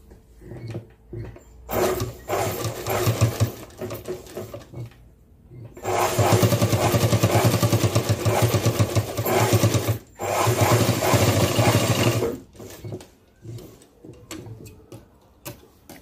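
A sewing machine runs in bursts while stitching a zipper onto fabric with an inch-wide tape measure as a guide, whirring steadily with short pauses between runs, close and fairly loud, with no talking.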